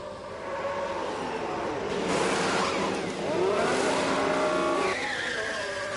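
Formula 1 race cars in F1 Manager 22 at Monza, coming out of the Parabolica: loud engine roars sweep past one after another, with rising and falling pitch and some tyre squeal.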